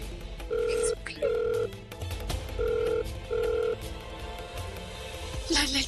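Phone ringback tone on an unanswered call in a Hindi TV serial, four evenly spaced electronic rings over a busy, noisy background with a brief sound at the end.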